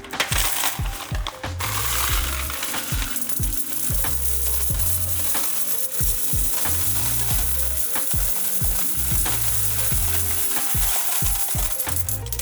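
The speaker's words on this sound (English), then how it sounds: "Let's go put the rest of these into the change machine and probably call it there." A laundromat change machine takes in coins, with a steady loud rattle of metal coins tumbling and clinking through the mechanism and repeated ratcheting clunks over about twelve seconds, close and without talk.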